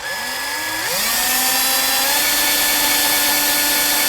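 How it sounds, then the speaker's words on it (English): A drill steadily boring out a broken bolt on a 1972 Cadillac Coupe DeVille, a continuous loud whine that rises in pitch as it gets up to speed after the first second, then holds steady. "Drilling, drilling, drilling."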